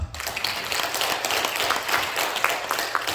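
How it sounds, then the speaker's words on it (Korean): Congregational applause during a Sunday church service, a sustained, even clapping from a crowd that fills the room without interruption. "하나님 큰 박수합니다"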